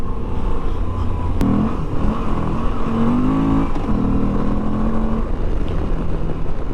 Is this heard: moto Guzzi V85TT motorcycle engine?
yes